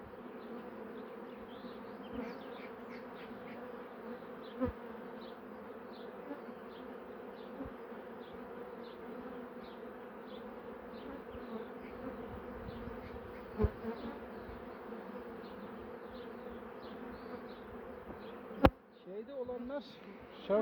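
A dense, continuous buzz of many honey bees around an open hive, steady and close, with occasional louder passes and a few soft knocks near the end.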